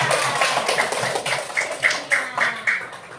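Classroom applause, a short run of light, evenly spaced claps that grows a little clearer toward the end, with a faint murmur of voices.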